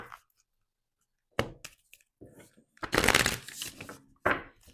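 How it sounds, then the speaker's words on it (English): Cards from a sacred symbol oracle deck being shuffled, irregular bursts of papery riffling and slapping that end in a longer dense shuffle, close and fairly loud, separated by short silences. "now I'm going to take out 2 cards from a sacred symbol oracle deck"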